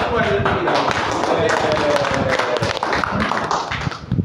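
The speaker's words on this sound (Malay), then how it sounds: "Kita berikan tepukan kepada tuan dan kita" An audience claps at a speech competition, dense steady applause from many hands, close and loud throughout with slight variation in intensity and a faint voice briefly underneath.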